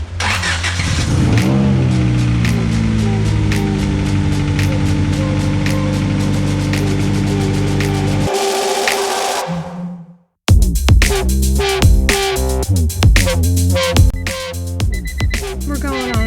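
Car accelerating on a test drive, a loud steady engine drone with rising tones that cuts out briefly, then returns with a busier, revving roar; faint voices blend in.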